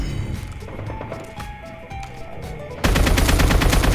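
Gunfire in the Call of Duty Mobile video game: a loud, sustained automatic burst of rapid shots that abruptly intensifies partway through, with scattered game sounds before it and no talk.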